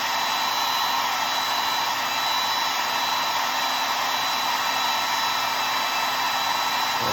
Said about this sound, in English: And I'm going to try to dry this.